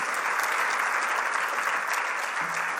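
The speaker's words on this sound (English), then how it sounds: "Give yourselves an applause." Hall of Fame induction ceremony crowd applauding, a dense, even wash of clapping at steady volume throughout, with no talk over it.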